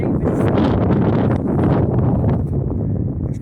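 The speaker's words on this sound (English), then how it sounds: "it's a little windy out here today" Gusty wind buffets the microphone at an outdoor graveyard, a loud, rough rushing roar that swells and dips over a few seconds, with faint voices briefly underneath.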